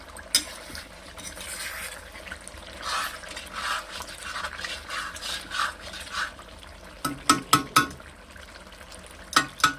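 A spoon stirs chicken curry in a hot pan with soft scraping and sizzling, steady and close, ending in a few sharper clinks against the pan.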